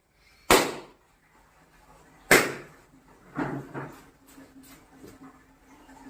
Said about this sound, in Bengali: দুম মজা হচ্ছে বেলুন ফাটাতে